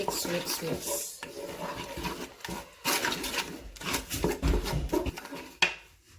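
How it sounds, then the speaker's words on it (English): Goat head pepper soup being mixed with ehuru and pepper in a pot, with irregular scraping, clinking stirs and short pauses between strokes, fairly close. "So after adding ehuru and no cube and pepper, you mix."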